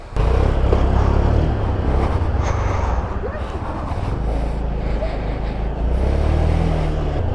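A Honda Dio scooter engine hums steadily while the scooter is ridden, loud and close. Wind rumbles over it and the level sags and rises slightly, suggesting changing speed.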